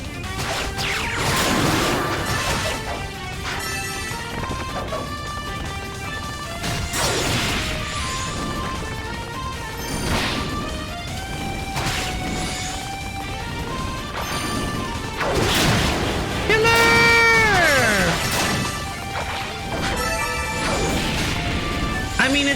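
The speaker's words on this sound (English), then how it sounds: "You hear the stun sound effect go off." Stun sound effect from the Ys Origin video game, heard among dense game audio with repeated crashing impact hits, whooshes and music, loud throughout with a rising chirp-like burst near the end.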